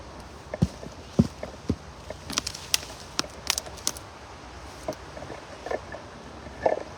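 Draft horse hooves clip-clop in an irregular walking rhythm on hard ground, moderately close, with quiet outdoor background noise and no talking.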